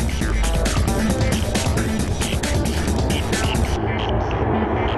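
An Airbus A380 airliner on final descent toward the runway, a loud broadband jet roar with throbbing texture that holds steady, then thins out near the end.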